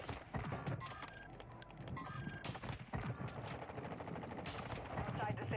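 Sniper rifle fire in the Warzone 2 video game: a few sharp, loud shots ring out over a dense, continuous bed of game sound effects.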